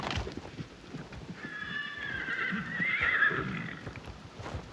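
Wild brumby stallions neighing and whinnying loudly in a long, shrill cry while fighting, with scuffling and hoof noise underneath.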